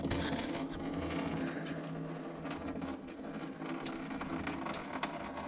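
The radiator drain petcock on a Jeep ZJ with a 4.0L engine is unscrewed, giving faint ratcheting clicks and light mechanical rattles over a steady background hum.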